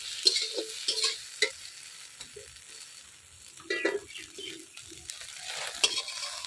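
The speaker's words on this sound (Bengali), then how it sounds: "এই দেখেন সয়াবিন কত সুন্দর করে ভাজা হয়ে গেছে" Soybean chunks fry in oil in a village kitchen, with soft sizzling and intermittent scraping stirs of a spatula against the pan, close and fairly quiet, without talk.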